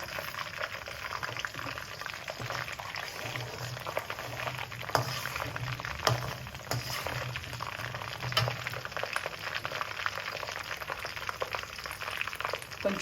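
Mustard seeds and cumin frying in hot oil for a tempering while drumstick pickle is made, giving a steady busy crackle and sizzle throughout, fairly quiet with no voices.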